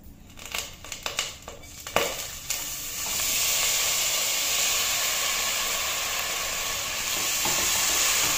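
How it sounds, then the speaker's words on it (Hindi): Cumin seeds fry in a little oil in a pressure cooker. First come a few scattered crackles and pops, then a steady, close, bright sizzle that continues throughout. "ये देखिए, थोड़ा ही ऑयल पहले डालेंगे, जीरा तड़कने देते हैं।"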